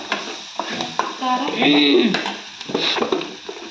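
Sprouted gram being stir-fried in a pan, with spoon scraping and clinking against the metal and a soft sizzle underneath, close and moderately loud with uneven stirring bursts.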